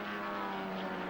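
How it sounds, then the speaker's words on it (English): Two BMW race cars in a 1983 Group One two-hour endurance race at Kyalami sweep past, a loud, continuous engine roar that stays steady through the brief moment. "Here come the two BMWs."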